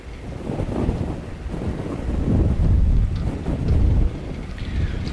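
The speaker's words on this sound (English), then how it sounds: "This wind is mental." Strong wind roars and buffets a microphone outdoors at Christchurch Airport, a loud, continuous rumbling gust that swells and eases for several seconds with no voices.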